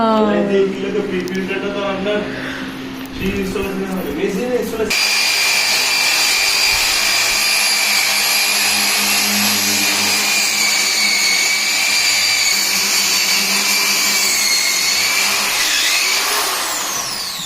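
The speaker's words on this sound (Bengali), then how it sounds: "ড্রিলের আওয়াজে ভয় পাবে" An electric drill boring into a wall during an Aquaguard Champ water purifier installation: a loud, steady, high whine running for many seconds after a brief stretch of talk.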